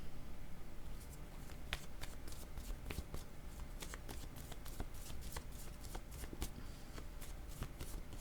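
Tarot cards shuffled by hand, a steady stream of quick crisp riffling and snapping flicks, close and soft, continuing without pause.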